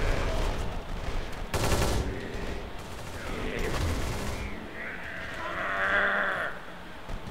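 Gunfire in the video game Kane and Lynch 2, with a burst of rapid automatic fire and other muffled shots and action noise, mixed with game sounds and occasional voices.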